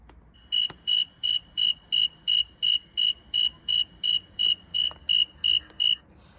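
Cricket chirping loud and fast in warm weather, a close, shrill, evenly spaced series of about fourteen rapid trilled pulses over a quiet background.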